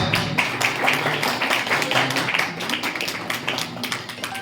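A village gathering in Rajgarh gives a sustained round of applause to welcome a visiting madam, many hands clapping densely and loudly for several seconds.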